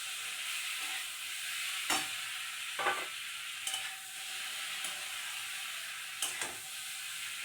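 Fish pieces fry in a pan with Kashmiri chilli under a constant bright hiss, with a handful of separate spatula knocks and scrapes spread through it and no voices.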